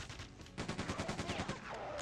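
Rapid machine gun fire in Quake 2 Remastered, a steady burst of closely spaced shots beginning after a brief lull and running on loud and continuous to the end.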